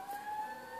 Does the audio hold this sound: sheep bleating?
no